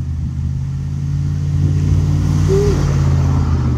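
Vintage 1979 Dodge Power Wagon engine idling loud and close, then revving up with a deep, steady rumble.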